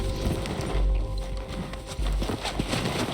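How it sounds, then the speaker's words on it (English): Horse hoofbeats from Red Dead Redemption 2 in a rhythmic clip-clop of galloping, moderately loud and steady throughout, under a busy game soundscape with no talk. "He's on that horse, John."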